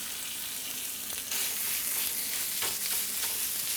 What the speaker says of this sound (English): I'm going to put down a little bit of clarified butter where the steak's going to go.